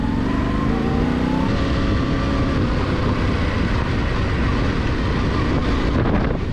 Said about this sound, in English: the bike just plows through this in third gear